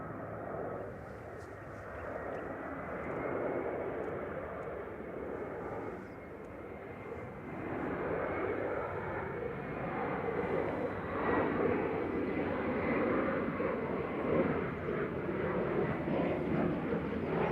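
A passenger jet at Manchester Airport roars continuously from the middle distance, its broad engine rumble swelling gradually louder while people talk over it.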